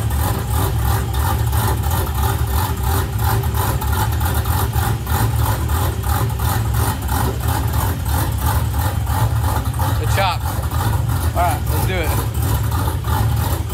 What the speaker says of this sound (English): I do have a little clip of the cam chopping away